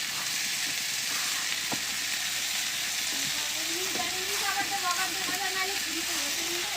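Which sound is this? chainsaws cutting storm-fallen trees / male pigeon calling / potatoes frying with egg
potatoes frying with egg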